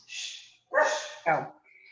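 Dogs bark and yip in short bursts, three close, loud calls in a row followed by a faint high whine at the end.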